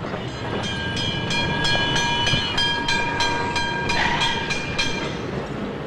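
A tram runs along city rails with a steady rolling rumble, rhythmic clicking of wheels over track joints and some metallic squeal, loud and continuous with no talking.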